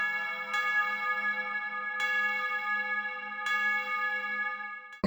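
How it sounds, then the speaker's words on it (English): Big chiming tubular bells in a cinematic pop mix, three bright struck notes spaced about one and a half seconds apart, each ringing out with long sustain over a soft low pad. "you put in these bells, like just big chiming bells"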